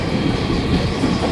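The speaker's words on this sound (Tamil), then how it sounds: "Taiwan high speed train" A Taiwan High Speed Rail train rushing past close by, a loud continuous roar with rumbling wheel noise throughout, no talking.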